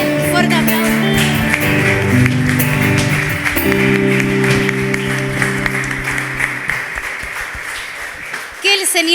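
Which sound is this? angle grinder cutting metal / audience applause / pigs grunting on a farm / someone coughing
audience applause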